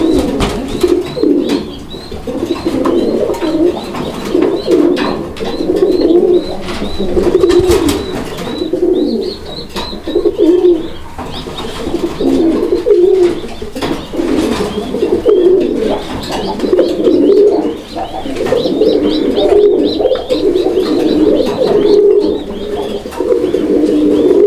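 A pair of Kaldom pigeons coo repeatedly up close, with deep, throaty rolling calls overlapping in an uneven rhythm, plus a few faint chirps from other birds.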